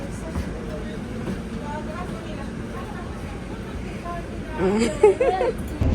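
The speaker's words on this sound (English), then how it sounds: "So guys, as you can see, we're in the bus." Interior of a moving bus during a back-to-school shopping trip, a steady low rumble of engine and road noise with a brief rattling burst near the end, voices murmuring faintly beneath.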